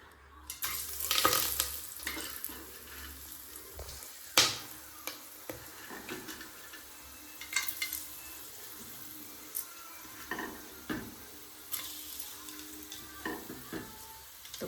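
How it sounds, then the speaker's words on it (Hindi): Whole spices frying in a pan for rajma masala, a soft continuous sizzle broken by scattered clinks and stirring knocks, with no talk. "तो खड़े मसाला डाल दिया है।"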